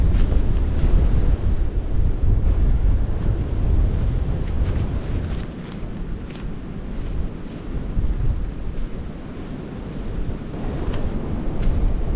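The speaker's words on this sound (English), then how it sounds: "It's also raining." Heavy wind on a mountain batters the microphone in a constant roar, with a hiss of driving rain beneath it and brief crackles throughout; no one speaks.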